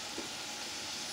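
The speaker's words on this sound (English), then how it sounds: "There's that sizzle." Food sizzling in a pan, a faint, steady hiss lasting about a second with no other sounds.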